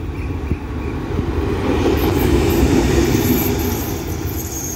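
An Alsthom diesel locomotive and its train pass on a railway line in Thailand, a steady loud rumble with rolling wagon noise that swells in the middle and stays close throughout.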